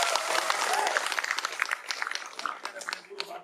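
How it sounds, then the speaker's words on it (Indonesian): A school audience of teachers claps together after a teacher answers a question, a dense patter of hands that thins out over a few seconds, fairly close, with speech mixed in. "Bagus, tepuk tangan dulu."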